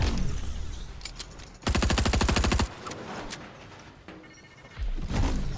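Overdrive grenades going off in a competitive shooter video game, loud bursts including a rapid, rattling chain of detonations lasting about a second amid other close, punchy impacts and whooshes.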